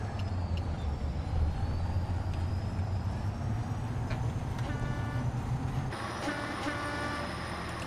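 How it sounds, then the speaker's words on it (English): A logging vehicle's big train horn sounds over a low engine rumble in snowy woods, with tonal horn blasts standing out near the end. "I do like this because it also has a big train horn."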